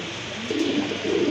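A pair of orange chila pigeons coos softly and steadily at close range over a faint hiss, with no voices.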